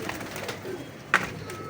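Healthy, active pigeons in a loft give a soft, brief coo over a steady low background murmur, with one short, slightly sharper call standing out near the end.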